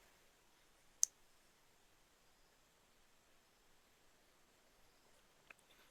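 Two sharp clicks of a computer keyboard Enter key, about four seconds apart, faint and isolated over a quiet hiss.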